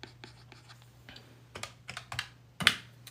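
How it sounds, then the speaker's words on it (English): Keys on a calculator keypad click and clack in a quick, uneven run of light taps that grows busier toward the end, fairly faint against a steady low hum, with no voices over it. "And now you just typing in the calculator, just click-clacking away."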